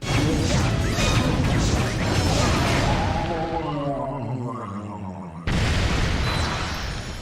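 Loud booming cannon fire and giant bomb explosions in a Super Mario Galaxy 2 boss fight against Bowser Jr.'s Mega Hammer, easing into a lower rumbling tone before a sudden heavy blast returns with full noise.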